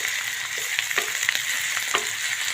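Rice ingredients fry in hot oil in a pan for masala rice, giving a steady close sizzle broken by light scraping stirs, with no talking.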